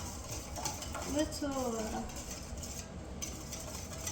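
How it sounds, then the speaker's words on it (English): Cornbread batter with lard and honey being whisked in a bowl, soft irregular scraping and stirring close by, with a brief voice murmuring partway through. "Still hard to mix it with the lard without making a mess and the honey, but I'll do my best. Just kind of do little"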